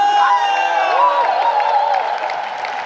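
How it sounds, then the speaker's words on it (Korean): A corporate Amway gathering audience bursts into loud applause and cheering, with shouts and whoops over dense clapping, close and energetic throughout. "박수 함성!"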